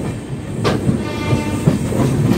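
A Howrah to Ranchi train rumbles steadily along the rails with rhythmic clickety-clack and a brief metallic screech, loud and close, as if heard from inside a carriage.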